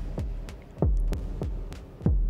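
Deep synthesized drum hits from a DFAM with pitch-dropping thumps repeat in a steady rhythm, each followed by echoing delayed repeats under a low hum.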